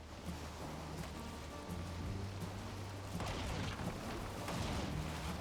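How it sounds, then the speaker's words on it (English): Rain falls during a storm at sea in the video game Valheim, a faint steady hiss over rolling waves, with a louder washing surge in the second half. "Oh, it's raining."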